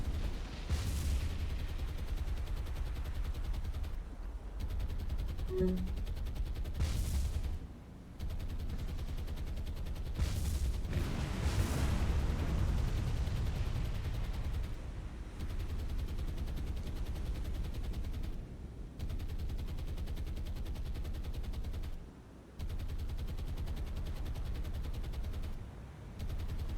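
Sustained naval gunfire in the World War II sea combat game War on the Sea, steady rattling bursts with occasional heavier booms, continuous and fairly distant over a low rumble, with brief pauses between volleys.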